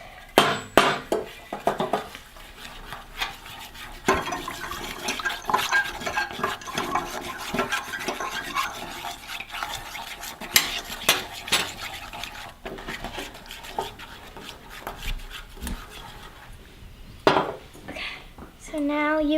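Food coloring is stirred into clear glue in a container for slime, with repeated scraping and clinking of a utensil against the sides, close and uneven in rhythm.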